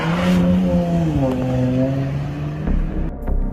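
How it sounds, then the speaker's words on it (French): A car engine runs steadily just outside a house, a loud continuous drone whose pitch dips and settles partway through before a rougher surge near the end. "le bruit qu'il a entendu, c'était le bruit d'un moteur qui tournait devant chez lui"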